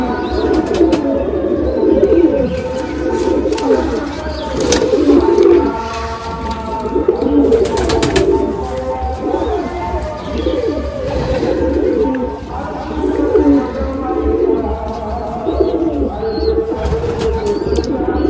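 Madrasi pigeons with full crests and short tails coo together in a close flock, a continuous chorus of soft rolling calls rising and falling in waves, with a few wing flutters and light background noise.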